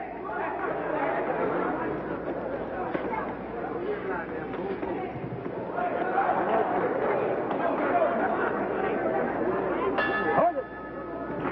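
A boxing ring bell ends round two of the Sonny Liston vs Leotis Martin bout. It clangs once near the end, rising over steady crowd chatter and ongoing commentary.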